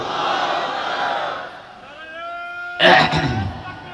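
A large crowd at an Islamic religious gathering roars the takbir chant in unison, a loud, swelling collective shout that rises after a speaker's call and rings out near the end.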